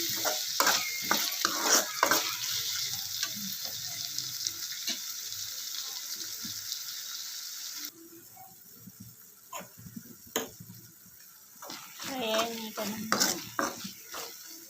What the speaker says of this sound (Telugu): ఇందులో కొంచెం అల్లం వెల్లుల్లి పేస్ట్ అల్లం పేస్ట్ కట్ చేసిన పోయేంత వరకు ఇలా వేయించుకోవాలి